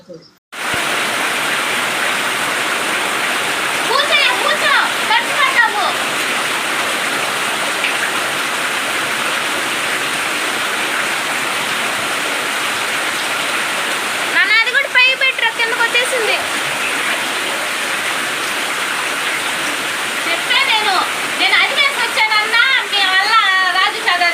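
Heavy, unbroken rain pours over a flooding house, a steady dense hiss of falling water with splashy runoff throughout, close and loud, with brief voices breaking through here and there.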